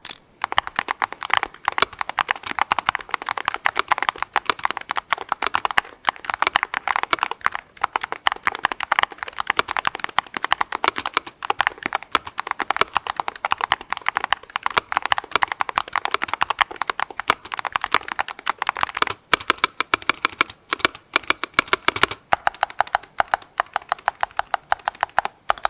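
Fast, steady typing on a DrunkDeer A75 Master Hall effect mechanical keyboard, with dense, rounded, clacky keystrokes heard close up and alone for a long continuous run, with brief pauses.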